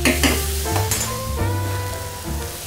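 Noodles go into a pan of sizzling onion and garlic sofrito for a fideuà with lobster and langoustines, a loud close frying hiss with stirring and scraping, no voices.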